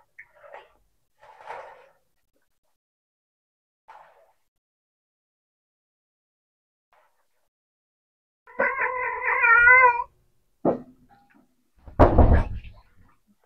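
A pet cat named Gray Gray meows near a door, several short faint cries spaced out, then a louder wavering meow followed by a bump and a knock-like thud, with no voices.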